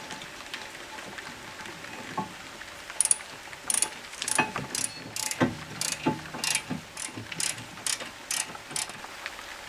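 A ratchet tightens caliper bracket bolts during a brake pad and rotor change, giving a run of quick clicking bursts, fairly close and moderately loud, with no talk.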